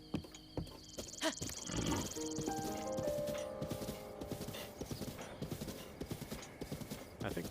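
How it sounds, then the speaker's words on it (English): Horse hooves clip-clop in a steady rhythm while riding in The Legend of Zelda: Breath of the Wild on Switch, with occasional whinnies and game music tones layered over the hoofbeats. "it really makes you enjoy riding a horse"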